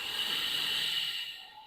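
A long, steady, airy exhale from a woman holding a plank during a yoga session, close and soft, fading out gently at the end.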